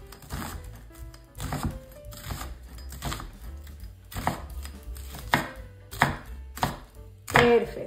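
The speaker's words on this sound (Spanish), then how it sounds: "Vamos a poner media cebolla que vamos a cortar en juliana." A knife chops half an onion into thin julienne strips on a cutting board, with sharp, loud, evenly spaced strikes in a steady rhythm and no voices.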